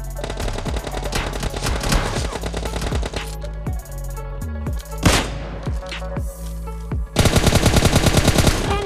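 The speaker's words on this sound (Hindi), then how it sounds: "इसने अपना रीलोड खत्म किया और मैंने इसके ऊपर गोली चला दी।" Rapid bursts of automatic gunfire in the mobile shooter PUBG Mobile Lite, with sharp repeated shots, brief pauses and single cracks, then a dense fast volley near the end, loud and close with no talk.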